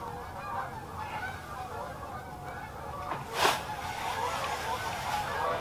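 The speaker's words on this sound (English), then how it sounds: "Sorry about the noise of the geese." Geese honk steadily in the background on a frozen lake during ice fishing in bitter wind chill. The calls are faint and overlapping, with one louder honk standing out near the middle.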